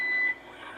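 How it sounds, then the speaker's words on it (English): A police breathalyzer test sounds a steady electronic beep tone that cuts off abruptly after about a third of a second, followed by quiet background hum. "Those beeps can't be good."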